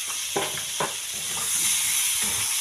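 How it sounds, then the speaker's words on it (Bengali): Pointed gourd and potato pieces frying in oil with salt and turmeric, a steady close sizzle and hiss with a couple of short stirring scrapes near the start. "নুন হলুদ দিয়ে অল্প ভেজে নেব পটলটা আর আলুটা।"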